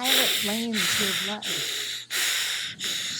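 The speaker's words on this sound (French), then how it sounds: "Et encore quelques respirations." Slow, deep breaths during a guided meditation: long airy inhalations and exhalations, close and steady, repeating in an even rhythm with brief pauses between them and a faint voice at the start.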